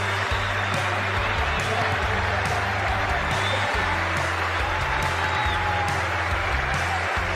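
A Sydney cricket crowd stands and applauds Graeme Smith as he walks out to bat, dense sustained clapping and cheering from a large stadium audience, continuous and loud throughout.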